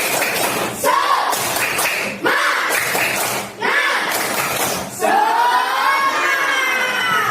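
Classroom of pupils performing a rhythmic spirit clap, with groups of sharp clap bursts separated by brief pauses and voices chanting along throughout, loud and close.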